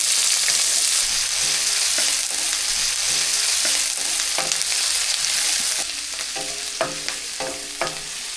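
Fennel seeds and onions fry in hot oil in a pan with a loud, constant sizzle, while a spoon scrapes and clinks against the pan in repeated stirring strokes.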